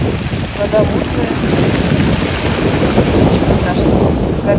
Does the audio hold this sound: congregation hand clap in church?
no